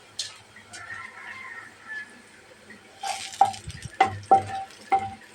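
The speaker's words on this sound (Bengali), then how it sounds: "পেঁয়াজটা ভালোভাবে ভেজে নেব।" Onions frying in a pan, a quiet sizzle at first, then louder stirring with several sharp clinks of a utensil against the pan in the second half.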